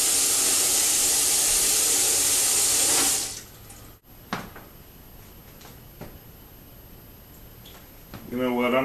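Hot water pours in a steady rushing stream for about three seconds, then stops, followed by a few light clinks and a voice starting at the end.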